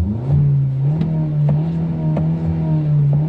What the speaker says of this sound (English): Burn a little bit of rubber and see what it's like just to do a quick takeoff.